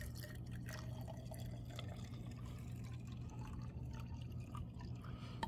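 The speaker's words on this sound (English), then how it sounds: "we should be able to just pour a little bit in here." Liquid trickles and drips as it is poured into the fuel tank of a hot bulb model engine, a faint, quiet pour over a steady low background hum.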